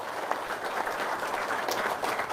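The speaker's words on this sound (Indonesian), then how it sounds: "Tepuk tangan dong." Steady clapping from a crowd, a dense continuous patter of many hands at moderate volume lasting a couple of seconds.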